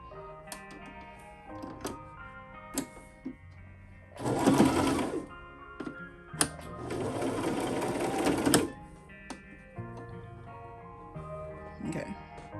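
A sewing machine stitches in two sustained bursts of a few seconds each, its rapid mechanical whir loud and close, with quiet pauses and light clicks between runs.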